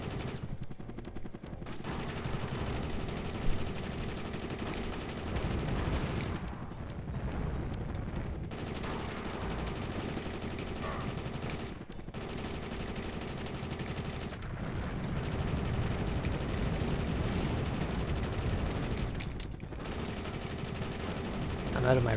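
Machine gun fire in the Soviet Strike video game rattles in long, dense continuous bursts with brief pauses between them, loud and close, mixed with booming explosions and a voice talking over the action.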